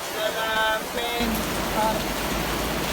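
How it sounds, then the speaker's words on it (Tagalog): Heavy rain pours down outdoors in a dense, steady hiss that fills the scene, with faint voices briefly audible beneath it. "Ay ngayon, nabuta naman kami malakas na ulan, no?"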